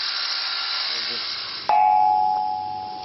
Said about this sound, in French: Vous avez entendu le son comme d'une cloche.